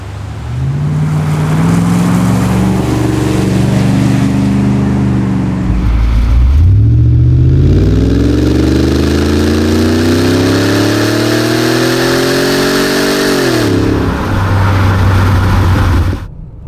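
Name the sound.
Hartge 5-litre BMW X5 V8 engine revving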